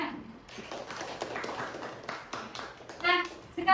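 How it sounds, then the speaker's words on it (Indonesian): A classroom of students applauds, a burst of scattered hand claps and taps at moderate distance, rising in a louder flurry toward the end. "Tepuk tangan."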